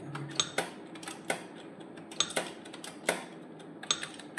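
Close keyboard typing with irregular sharp clicky keystrokes and bursts of taps, loud and alone in a quiet room.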